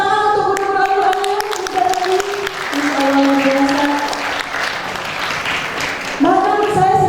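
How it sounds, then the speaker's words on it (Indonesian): Guests at a Quran memorization graduation and farewell ceremony clap for the Quran teachers. Loud, sustained applause runs the whole time, mixed with held musical or voice tones. "Tepuk tangan untuk guru-guru Al-Qurannya"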